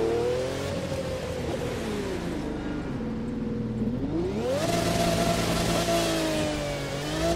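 A Koenigsegg Regera hypercar revs in the racing game The Crew 2. The engine note holds steady, dips, then climbs sharply as it accelerates under continuous loud road and wind roar.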